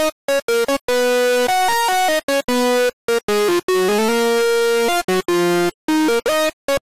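A buzzy, gritty distorted synth lead made in the Serum synthesizer plays a staccato melody of short stabbed notes with brief gaps, harmonically rich and loud, with no voices.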